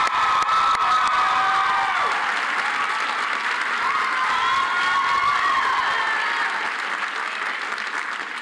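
A large crowd at a 2017 college commencement claps and cheers steadily throughout, with dense sustained applause and scattered whoops that stay loud before easing slightly at the end.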